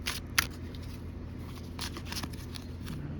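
Playing cards shuffled outdoors in evening light, a short riffle burst near the start followed by faint, soft shuffling and crackle, close and quiet with no talk.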